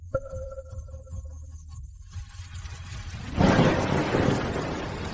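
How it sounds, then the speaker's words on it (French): Heavy rain pouring down, starting after a quiet stretch with a low rumble and then swelling into a loud, dense hiss that keeps going. "il pleut de plus en plus fort"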